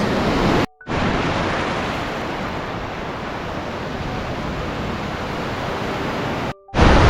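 Ocean surf washes onto a New Zealand beach as someone wades through it, a loud continuous broadband roar of waves up close with two brief drops to silence and no speech.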